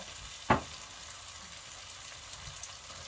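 Eggs with fried garlic fry in a pan, a soft continuous sizzle with one sharp splash-like burst early on and a few faint clicks later.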